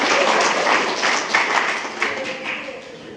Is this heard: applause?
yes